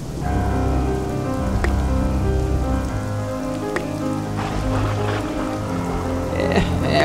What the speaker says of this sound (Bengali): এখনো তো বৃষ্টিটা থামলো না